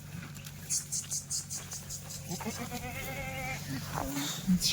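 Kathiawari dairy goats unloaded from a truck bleat repeatedly, with nasal wavering cries overlapping at close range above a low steady background hum, and faint voices in the mix.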